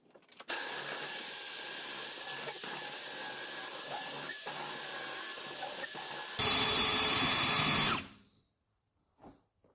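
A heavy-duty power drill mounted in a portable drill guide whirs steadily for several seconds, then jumps to a louder, harsher pitch before spinning down and stopping, with a faint click afterward.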